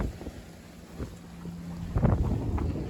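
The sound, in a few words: wind blowing while sailing a sailboat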